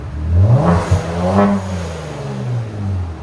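A 480 hp Kia Stinger GT with a twin-turbo 3.3-litre V6, stage 6 tune and muffler-deleted exhaust revs up sharply to a rising roar, then settles into a deep, steady rumble, loud and close.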